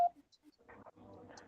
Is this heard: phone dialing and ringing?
yes